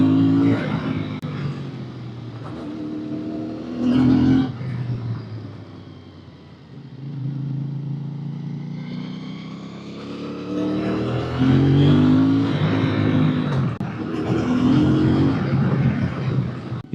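A Moto Morini motorcycle engine runs and pulls on an off-road ride over gravel, a loud close drone that rises and falls with throttle changes throughout.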